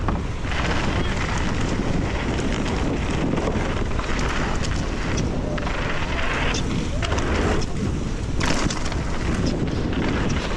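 Strong wind buffeting the microphone while mountain biking down a bike park trail, a loud continuous roar with rushing, gusty surges throughout.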